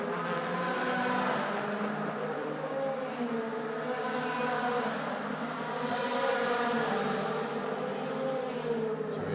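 An Audi DTM race car driven by Nico Muller slows as it heads into the Abt pit garage at the 2016 Moscow race. The engine drones in the distance in rising and falling waves, faint under a commentator's voice.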